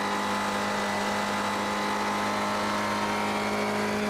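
A race car engine in an SCCA Core Premier Series race at Las Vegas holds high revs at a steady, loud, unbroken whine that stays close the whole time. No voices can be heard.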